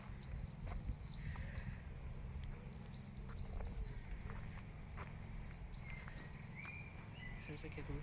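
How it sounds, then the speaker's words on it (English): Great tit singing in woodland, repeated bright two-note phrases in three clear bursts, fairly near, over a low rumble of wind or handling noise. "I think it's a great tit actually. The one that's singing away."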